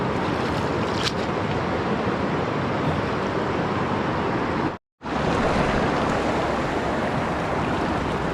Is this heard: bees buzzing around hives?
no